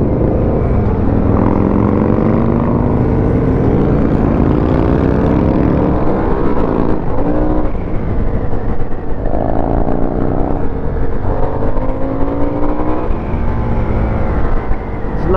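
A 2022 Harley-Davidson Sportster S engine drones loud and close during a demo ride, a steady rumble with rising and falling revs and wind rush, no voice over it.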